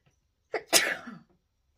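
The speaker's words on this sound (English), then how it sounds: "Hold on, I gotta sneeze." A single sharp sneeze, close and loud, with a quick inhaled buildup before the burst, then quiet.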